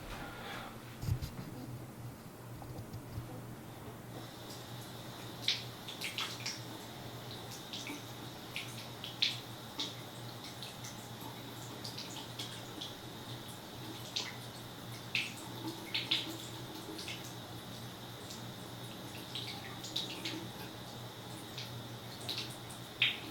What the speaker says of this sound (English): And I'm just gently rinsing it.